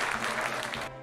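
A brief burst of audience applause, dense and fairly loud, cuts off abruptly after about a second.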